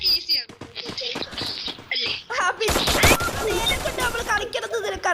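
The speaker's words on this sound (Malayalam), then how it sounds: "നല്ല തോക്ക് തന്നെ." Gunfire in the mobile battle game Free Fire, bursts of rapid shots and clattering fire, loud and close, with a dense sustained volley in the second half and people talking over the game audio.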